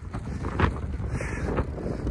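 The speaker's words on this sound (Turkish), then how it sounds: "Çok rüzgar var ya, çok." Strong wind buffets the microphone while cycling on gravel village roads, a steady loud low rumble with gusty swells and no speech.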